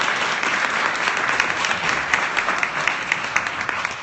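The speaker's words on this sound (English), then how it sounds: "Let's give them a round of applause today" An audience applauds at a city State of the City address in a playhouse, with dense, sustained clapping filling the room at moderate loudness, no voices over it.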